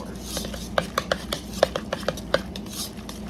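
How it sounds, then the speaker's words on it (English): A spoon clinks and scrapes against a bowl in a quick, irregular rhythm while corn fritter batter made with canned whole kernel corn and self-rising flour is mixed, the taps close and fairly soft. "now we're going to mix that up and just see how much more we need to put of the flour"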